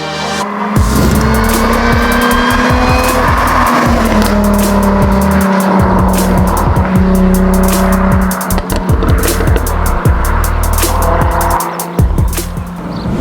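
A Jaguar F-Type S sports car driving on the road, its engine loud and steady throughout with rising and falling revs as it changes gear and accelerates, and no voices over it.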